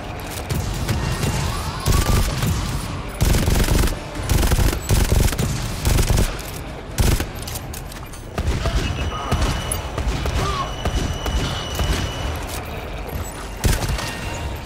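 Bursts of automatic gunfire and single shots ring out in the video game GTFO, loud rapid volleys in clusters with short gaps, mixed with clattering mechanical sounds.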